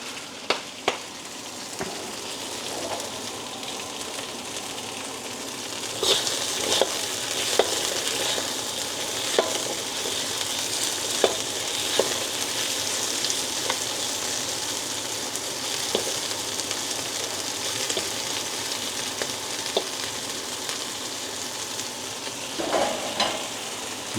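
Seafood blanching in a hot stir-fry pan gives a steady, close sizzle and hiss, with scattered clicks and pops over the whole stretch and no voices.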